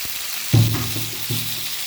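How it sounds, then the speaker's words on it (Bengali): Potatoes drop into hot oil seasoned with asafoetida and jaggery, setting off a sudden sizzling burst that eases to a steady fry, followed by a second smaller splash of sizzle. "এই যে আলুগুলো ভাজছি"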